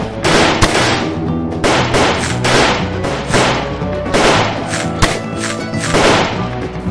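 Gunfire sound effects fill a plastic army men stop-motion battle between the US cavalry and the Old West. Loud pops and thudding bangs come in dense, irregular volleys, with no talk over them.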